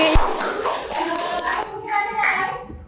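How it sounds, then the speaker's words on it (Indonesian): A class applauds a student with a brief burst of clapping hands. The clapping is mixed with talking voices, including children. "tepuk tangan dulu"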